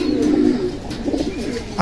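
A pair of pigeons settled into a new cage coo nearby in two soft rolling bursts, the second more broken and warbling, with no voices present.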